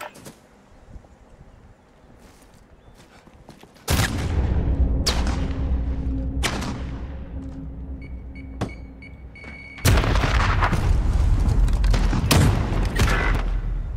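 Bomb explosion in Call of Duty Modern Warfare video game, heard as several sudden loud booming blasts over a few seconds, each followed by a sustained rumble, with a final large blast near the end.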